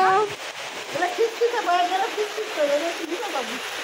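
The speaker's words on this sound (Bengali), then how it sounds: "হ্যাঁ বৃষ্টি হচ্ছে" Steady rain patters down throughout, a dense wash of drops heard close by beneath a family's continuous talking.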